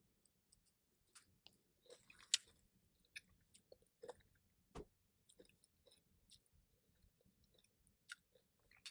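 Soft, close chewing of a McDonald's McFlurry loaded with Oreo pieces, quiet squishy bites and occasional crunchy clicks scattered irregularly across a near-silent background.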